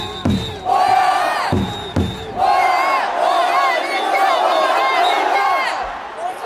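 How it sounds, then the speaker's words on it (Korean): Baseball crowd at a Hanwha Eagles game cheering and chanting loudly in unison, with sharp clapping bursts and whoops, a pinch runner being welcomed, the noise sustained throughout. "박수 부탁드립니다."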